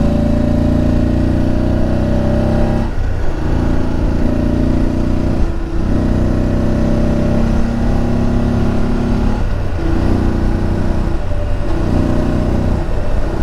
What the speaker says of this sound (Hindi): भाई तू बाइक चला रहा है वो भी हाईवे पे।